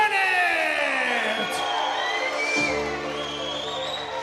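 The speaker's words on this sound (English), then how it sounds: "A big pop in the crowd for Warren Bennett." A boxing crowd at a Manchester fight night whoops and cheers as boxer Warren Bennett enters the ring, a loud, wide roar with a drawn-out shouted voice sweeping over it before the noise settles slightly.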